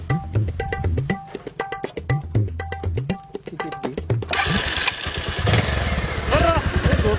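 A Pulsar motorcycle engine is cranked with several rhythmic starter pulses before catching and running at a steady close idle, with a brief squeal near the end.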